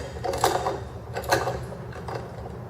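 Ratchet with a 19mm socket working the flywheel nut on a Wacker Neuson WM80 engine, a few close, short metallic clicking bursts against a low background.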